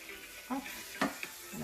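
A rice dish with exotic seasonings simmering and sizzling softly in a pan, a low bubbling hiss with a couple of brief stirring clinks over the short stretch.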